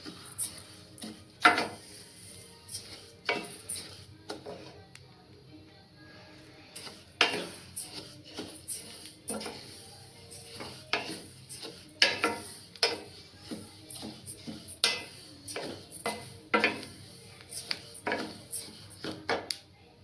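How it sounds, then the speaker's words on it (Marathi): Flaxseeds dry roasting in a pan, with irregular clinks and scrapes of a spoon against metal and sharp little crackling ticks scattered throughout, fairly close and moderately loud with quiet gaps between bursts. "इकडे आपले थोडेसे ना आवाज येते, चटचट तुम्हाला आवाज येत असेल तर म्हणजे इकडे ते भाजत आहेत"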